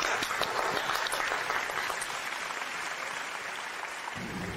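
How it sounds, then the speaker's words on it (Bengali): Audience applause at a dance drama performance, a dense, steady clapping that holds evenly for several seconds and eases slightly toward the end. "একটা হাততালি অর্জুন।"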